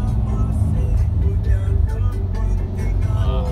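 Steady stream of cars rolling downhill on the busy non-toll mountain road between Cirebon and Bandung, a continuous loud engine and tire rumble with vehicles passing close by.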